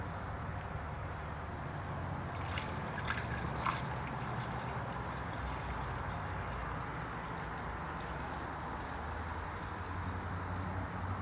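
Fuel bypass flow from a Walbro GSS307 pump trickling into a container, a steady continuous liquid wash with a low hum underneath, even in level throughout with no talk.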